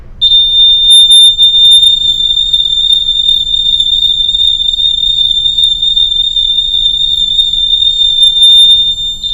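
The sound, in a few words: electronic buzzer moving, Doppler effect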